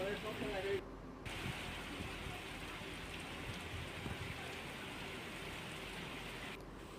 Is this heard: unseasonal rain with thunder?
yes